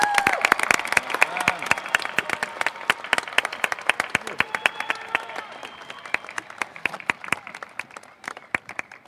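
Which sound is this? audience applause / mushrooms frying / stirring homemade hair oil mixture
audience applause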